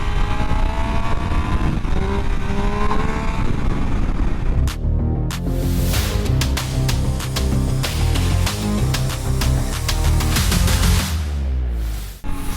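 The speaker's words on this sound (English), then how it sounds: "Sounds lovely on the exhaust." The exhaust of a 2025 Triumph Tiger Sport 800 motorcycle drones steadily while riding, then swells into a rougher, louder engine roar with wind rush. The sound is close and continuous throughout.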